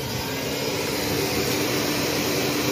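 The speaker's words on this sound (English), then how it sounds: "It doesn't create a lot of suction, but what do you expect for a 70-year-old vacuum?" A vintage Electrolux Model 30 canister vacuum cleaner, built between 1937 and 1954 and now about 70 years old, runs with a steady, even motor whine and airy roar that is loud and close throughout, with no voices.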